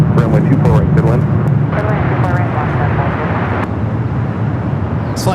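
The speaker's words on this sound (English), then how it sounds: "JetBlue A321 now lining up." A JetBlue Airbus A321neo lines up on runway 24 right at LAX, bound for JFK, its jet engines a steady broadband roar with a low rumble beneath, while a voice talks over it.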